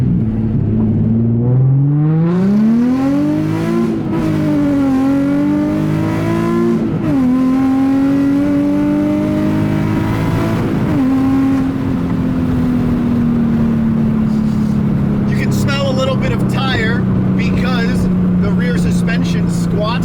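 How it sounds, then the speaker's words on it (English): A Nissan 350Z's exhaust roars at full throttle, revving up and down in loud rising sweeps before settling into a steady, droning howl. "Let's go ahead and mash the throttle and you'll see just how loud this thing is."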